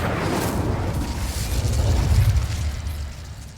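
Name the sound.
spell explosions cast in the video game Hogwarts Legacy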